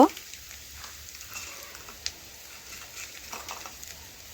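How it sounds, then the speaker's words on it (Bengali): Onions fry gently in oil over low heat in a home kitchen, giving a soft, steady sizzle with faint crackles and occasional stirring taps. "এজন্য একটু সময় নিয়ে হালকা আঁচে আমি লাল লাল করে ভেজে নিচ্ছি"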